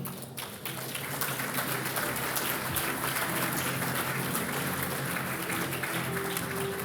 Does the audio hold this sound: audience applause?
yes